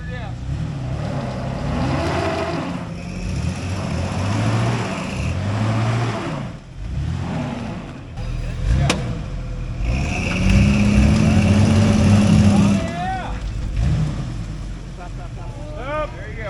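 An off-road vehicle's engine revs repeatedly at an off-road park, the pitch rising and falling in surges, close and loud, with people talking over it.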